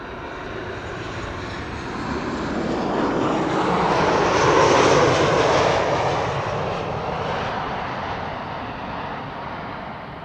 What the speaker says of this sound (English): First up, a 25-year-old Transavia 737-800. Arriving from Barcelona.